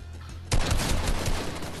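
Rapid gunfire from the Fortnite video game bursts in suddenly after a brief quiet moment, a dense, loud rattle of shots that continues without a break to the end.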